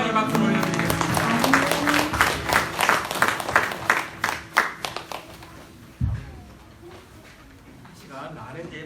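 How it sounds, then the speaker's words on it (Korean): A church congregation claps together in a quick, steady rhythm during a Korean Sunday service, with voices alongside; the clapping stops abruptly partway through, leaving a low murmur. "박수를 올려드리겠습니다."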